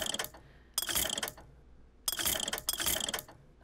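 Ammo pickups for a carbine and a machine gun in BioShock Infinite, heard as three distinct bright metallic ratcheting clatters, close and crisp, separated by short quiet gaps.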